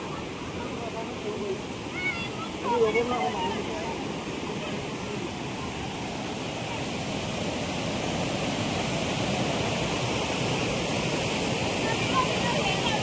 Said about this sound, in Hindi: ये देखो केते सुंदर झरना